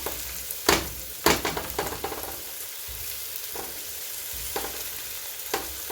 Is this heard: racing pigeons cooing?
no